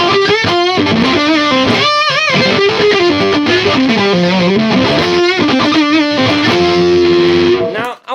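An electric guitar plays loud riffs and bends through a fuzz pedal set to a classic distortion fuzz, thick and saturated, with sustained chords ringing out before a sudden cutoff.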